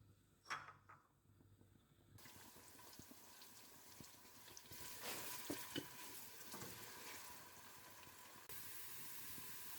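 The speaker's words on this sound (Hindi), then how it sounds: "जब ऑयल गर्म हो जाएगा तो हम इसमें प्याज डाल देंगे और प्याज को हम गोल्डन ब्राउन करके बाहर निकाल लेंगे" Onions fry in hot oil for shahi mutton korma, starting with a few clatters, then a continuous hissing sizzle that swells and holds steady, close and fairly quiet.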